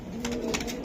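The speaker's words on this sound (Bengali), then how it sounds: "এটি বাচ্চা কবুতর" A young racing pigeon coos in a single short, soft, low call that sits close and steady.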